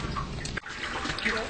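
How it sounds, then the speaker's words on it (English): Water is poured into mash in a brewing pot to wash it, a steady close splashing and trickling pour that runs without a break. "Now adding more water"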